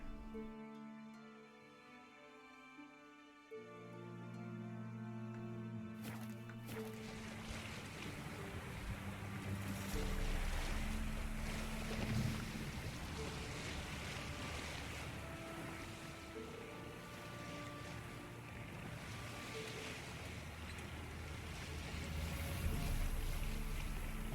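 A boat sailing on water in The Witcher 3, with a tonal game soundtrack giving way to continuous rushing waves, wind and hull wash that stays steady and full throughout.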